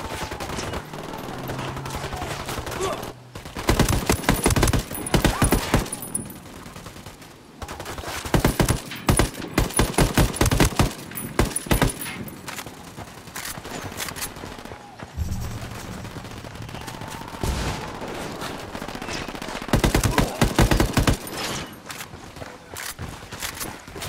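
Firefight in Ghost Recon Wildlands against ex-military Sicarios, with repeated loud bursts of automatic gunfire in clusters across the scene, some quieter gaps between, and occasional footsteps.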